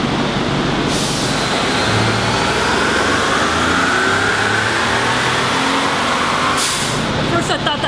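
A 2017 Ford F-150 with the 3.5L EcoBoost engine on stock calibration, pulling hard on a dyno: a loud, sustained engine roar whose pitch climbs steadily through the run before it cuts off near the end.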